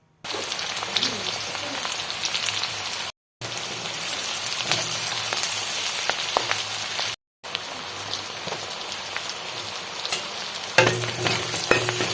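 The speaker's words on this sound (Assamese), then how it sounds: "এতিয়া প্ৰথমে আমি মাংসখিনি ভাজি লওঁ" Chicken meat frying in a pan for a banana-stem chicken curry, with a steady, close sizzle and occasional scraping stirs. It runs continuously with two brief silent gaps, and no one speaks.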